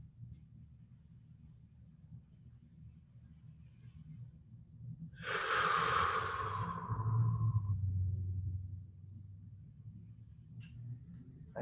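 Slow, deep breathing during a relaxation exercise, with one long audible breath in the middle, soft and close over a low background hum.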